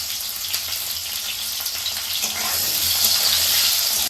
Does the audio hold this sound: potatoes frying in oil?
yes